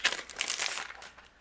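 A plastic covering is peeled off a sticky-grip Simon Says Stamp stencil mat, a short quiet crinkling rustle that lasts about a second.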